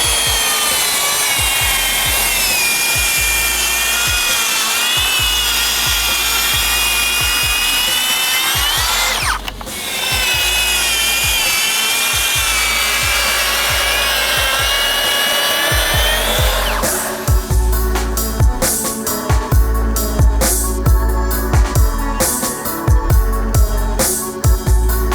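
A Makita DSP600 36V cordless plunge saw cutting through wood, a loud continuous whining cut that dips briefly midway, then gives way to rougher, uneven grinding and rattling toward the end.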